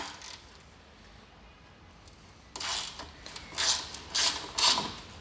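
A socket ratchet wrench turning a subframe bolt on a Classic Mini, heard as several close, short bursts of clicking ratcheting after a quiet stretch of background noise.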